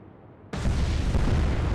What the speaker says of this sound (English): That's gonna be one torpedo hit.